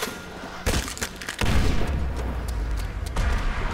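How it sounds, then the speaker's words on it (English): Heavy grenade blast in the zombie survival mode of Call of Duty: World at War, Nacht der Untoten map: a sharp close detonation followed by a deep rumbling boom that lingers, with scattered gunfire around it. "Let's throw a grenade in there."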